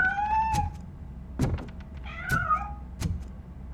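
A cat meows a few times amid the ambient soundscape of the Robocop Rogue City video game, with soft thuds and knocks in between and no speech.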